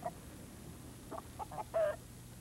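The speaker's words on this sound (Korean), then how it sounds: "농장에 도착하자 조지 랭커스터는 우수닭으로 뽑힌 암탉을 보여줬습니다." A prize-winning hen clucks on a farm in a few short, separate bursts over a quiet background, fairly close and moderately loud.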